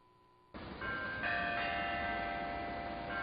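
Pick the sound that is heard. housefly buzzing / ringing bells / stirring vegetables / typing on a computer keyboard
ringing bells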